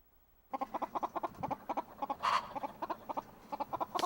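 Chickens cluck in a quick, rhythmic series of short calls, close by in a coop as a leopard cat stalks them, with one louder squawk midway and no talking.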